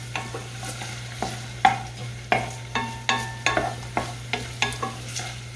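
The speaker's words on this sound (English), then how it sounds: "So you can probably hear this already starting to sizzle." Onion fries in a pan for Spanish rice, a soft steady sizzle broken by a regular series of sharp scraping stirs against the pan, close and fairly quiet, with no talking.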